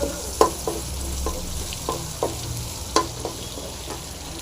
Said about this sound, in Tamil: இடித்த பூண்டு போடலாம் இது போட்டு நல்லா ஃப்ரை பண்ணிங்க